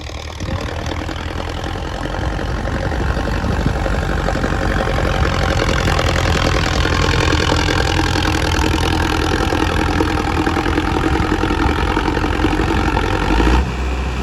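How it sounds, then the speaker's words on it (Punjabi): Sonalika DI 750 tractor with high-low and shuttle gears, its diesel engine idling in a loud, steady, unbroken rumble close by, with no talking. "ਇਹ ਸੋਨਾਲਿਕਾ ਹੈਗਾ DI 750 ਹਾਈ ਲੋ ਗੇਅਰ ਚਾ ਸ਼ਟਲ ਗੇਅਰ"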